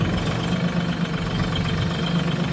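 A tractor engine runs steadily at low idle in mud, a constant rumbling drone with vibration and no breaks, close and fairly loud throughout.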